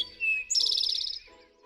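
Eastern towhee near Kingston giving a clear song, a short whistled note followed by a rapid buzzy trill, close and distinct against faint background hum.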